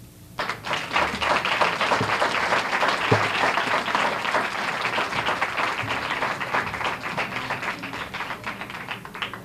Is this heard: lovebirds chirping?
no